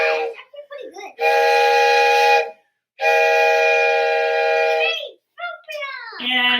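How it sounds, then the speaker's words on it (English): A handheld toy train whistle played by a percussionist gives two long, loud, sustained chord-like blasts, each about a second and a half, with short squeaky sounds before, between and after. "a train whistle"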